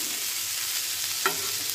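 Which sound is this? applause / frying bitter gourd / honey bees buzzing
frying bitter gourd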